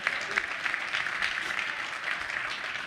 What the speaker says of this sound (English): You just clap that up.